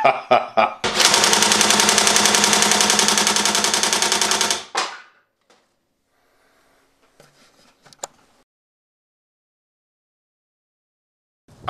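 A rack-and-pinion machine-gun crossbow fires in second gear: a loud, rapid mechanical rattle of repeated shots runs steadily for about four seconds, then stops dead, leaving faint clicks and handling noises.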